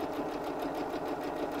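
A sewing machine stitches fabric for a tote bag in a continuous, fast, even mechanical whirr with fine regular pulsing, moderately quiet and close, with no talking.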